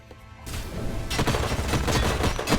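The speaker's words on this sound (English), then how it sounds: "it triggered the Overwatch, which triggered their explosion, which killed them" In the strategy game Age of Wonders Planetfall, a sudden burst of booming blasts and rapid gunfire erupts after a quiet moment, loud and dense, with repeated thuds rolling on to the end.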